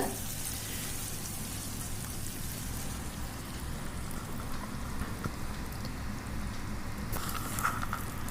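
Ginger, garlic and curry leaves sauté in hot oil in a pan for a Tamil chicken kulambu, giving a steady, close crackling sizzle that runs unbroken for the whole stretch with no voices over it.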